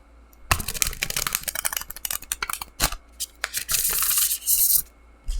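A Genius Garden tarot deck being shuffled by hand, close up, with a quick run of papery riffling and flicking card slaps followed by a longer sustained bridging whir, no talking.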